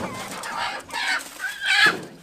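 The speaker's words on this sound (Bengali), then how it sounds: "মুরগির ডাক শোনা গেতেছে" A chicken clucks loudly and close in three quick bursts, each a sharp nasal squawk, with no talk over it.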